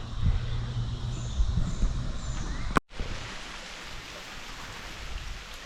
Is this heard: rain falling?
yes